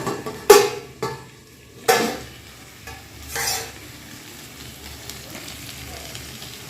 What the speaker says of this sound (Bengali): এই হচ্ছে আলু ভাজা